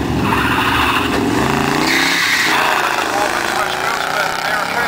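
A Corvette and a Barracuda launch side by side at a drag strip, a loud continuous engine roar with tire squeal and rising revs, while a commentator talks over the noise.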